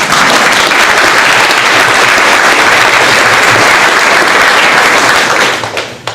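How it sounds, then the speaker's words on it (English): A large audience at an eighth-grade graduation ceremony applauds the graduating class, a dense, loud, steady wash of clapping that holds for about five seconds before tapering off. "Give yourselves a round of applause."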